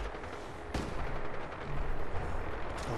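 Shotgun blasts and chaotic gunfire in Fallout 4, set in the Glowing Sea, with a sharp broadband shot near the start followed by dense, continuous combat noise.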